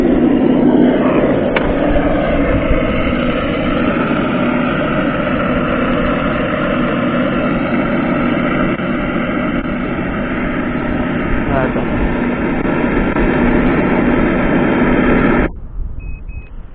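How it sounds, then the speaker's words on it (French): A loud, steady engine drone from a Hobao 1/7-scale RC car runs continuously, close and unchanging, then cuts off abruptly near the end, leaving quieter background noise. "J'ai changé le bruit du moteur."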